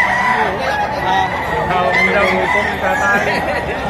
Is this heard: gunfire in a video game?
no